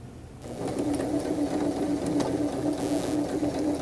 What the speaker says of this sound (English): You are sewing two pieces together, so you will be back stitching.